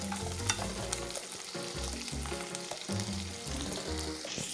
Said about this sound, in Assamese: এয়া কৰ্ণখিনি মই অকণমান ফ্ৰাই কৰি ল'ম।